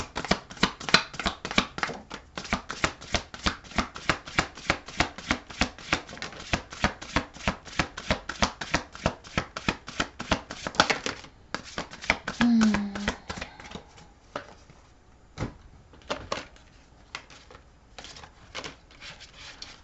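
A deck of oracle cards being shuffled in repeated quick riffles and rustles that run steadily for most of the stretch, then thin out into a few scattered flicks and taps near the end.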